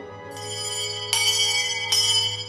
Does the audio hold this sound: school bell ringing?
yes